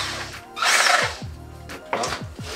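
A power tool with a 16 mm socket loosens a front suspension screw on a Peugeot 206 in two short whirring bursts, close and fairly loud, separated by a quiet gap.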